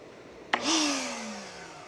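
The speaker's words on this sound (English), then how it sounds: "Now let's turn on the shop vac." A shop vac powered by a DJI Power 2000 power station bangs on with a sharp click, then its motor whines up loudly and quickly winds down as the power cuts out, all within a second or so.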